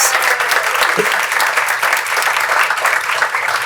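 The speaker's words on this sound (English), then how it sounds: "Let's give a round of applause to our high schools." A school board meeting audience applauds local high schools, steady, full clapping that fills the whole stretch without a break.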